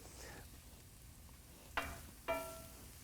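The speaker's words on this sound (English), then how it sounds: "You can smell the onions cooking, the mushrooms cooking away." Onions and mushrooms fry quietly in a pan, a soft, steady sizzle at low level with two brief clinks of a utensil against the pan partway through.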